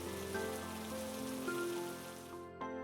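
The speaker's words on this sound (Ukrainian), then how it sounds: "Перші краплі дощу почали падати на землю а за ними почалась сильна злива." Steady rain pours down, a dense continuous patter on a surface, with a faint tonal hum beneath that cuts out near the end.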